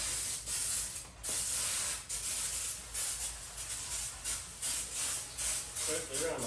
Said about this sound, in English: I'm gonna give her a dose of good old brake clean.